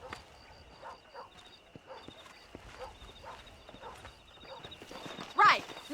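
Horses trot with a steady, quiet clip-clop of hooves in the Western video game Red Dead Redemption, with a short louder burst near the end.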